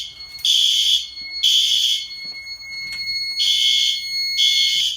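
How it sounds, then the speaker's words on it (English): A commercial fire alarm system blares a loud, harsh electronic alarm in repeated pulses of about a second each, separated by short gaps, close and piercing. "You have to go back to the panel to turn off the alarm."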